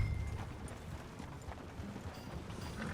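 Steady clip-clop of horse hooves at a trot in the video game Red Dead Redemption 2, fairly faint, over a constant noisy background with no talking.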